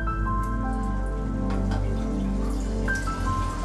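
Water poured from a glass into a pan of semiya makes a continuous close splashing and trickling, mixed with a steady low hum and with no speech.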